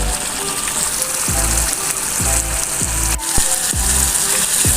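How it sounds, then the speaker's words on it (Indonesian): Chillies fry for Padang-style sambal lado as a spoon stirs them in a pan, a loud continuous sizzle broken by regular rhythmic scraping strokes, close up with no talk. "Kita aduk-aduk terus sampai kering, sampai matang cabenya"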